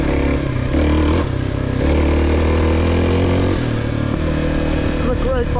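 A Kawasaki KLX 300 dirt bike cruises up a trail in early spring in New Hampshire, its engine droning loudly and near with small shifts in pitch while a rider talks over it.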